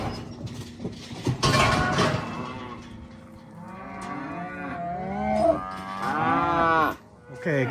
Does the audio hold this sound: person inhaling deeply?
no